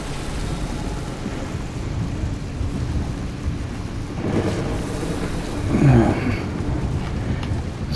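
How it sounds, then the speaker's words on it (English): A thunderstorm rumbles in the video game Pacific Drive, with steady wind and rain-like noise and a low roll of thunder swelling near the end, heard alone without talk. "This storm seems a little more dangerous than normal."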